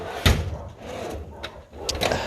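A workshop drawer for brake tools is pulled open with a sharp wooden knock followed by scraping and rattling slides, a few separate clunks spread over two seconds.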